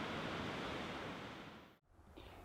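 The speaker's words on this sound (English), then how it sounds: "Big Manitou Falls is Wisconsin's largest waterfall" Big Manitou Falls in Wisconsin, a 165-foot waterfall, roars as a steady broadband rush of falling water. The roar is briefly cut near the end, then resumes.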